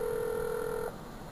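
A telephone rings in the Carmen Sandiego video game: a steady electronic tone that sounds alone, close and clear, then cuts off abruptly partway through, leaving faint background hiss.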